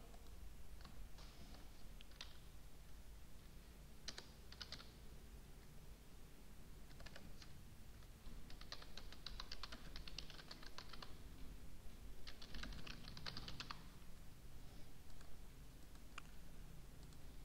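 Typing on a computer keyboard while entering school details into an Excel spreadsheet, quiet rapid clicking in short irregular bursts with pauses between, close but soft and with no talking.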